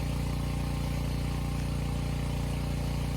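A small tractor engine idles steadily at close range, a constant low rumble with an even throb that never changes across the whole stretch.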